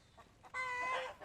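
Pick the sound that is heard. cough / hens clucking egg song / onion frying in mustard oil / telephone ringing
hens clucking egg song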